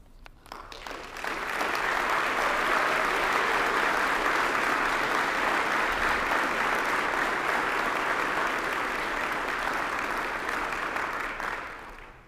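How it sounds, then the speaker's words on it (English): An audience at a sheriff's office quarterly awards ceremony in Hillsborough County applauds federal prosecutors, the clapping swelling quickly into a loud, dense, steady round that holds for about ten seconds before tapering off. "please stand so we can give them a well-deserved round of applause"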